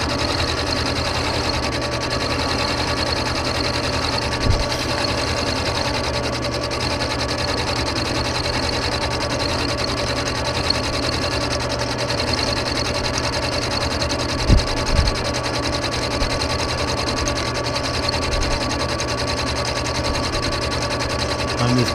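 Milling machine running an end mill into a metal backhoe part, a steady continuous machining hum with a few faint clicks, close and unbroken for the whole stretch.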